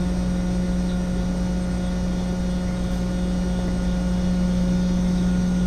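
A homemade transfer pump drives gasoline out in a loud, unbroken motor drone with a steady buzzing hum that never varies in pitch or level.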